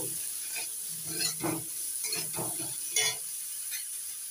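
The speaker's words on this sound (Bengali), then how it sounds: "সবজিটা ভাজা হচ্ছে" Potato and green banana pieces with salt and turmeric fry in hot oil, giving a steady close sizzle broken by several louder scraping stirs of a utensil in the pan.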